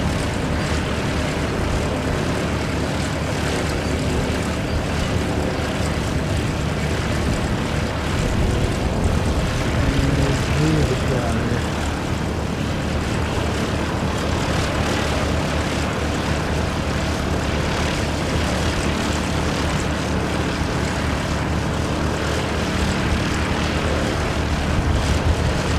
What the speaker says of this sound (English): Medical transport aircraft.